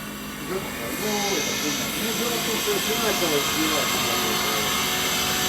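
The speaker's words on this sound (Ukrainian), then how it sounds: "Зараз візьму болгарочку і підчищу трохи." An angle grinder cleans up a metal piece: a steady, loud broadband hiss and rush runs almost throughout, while people talk faintly underneath.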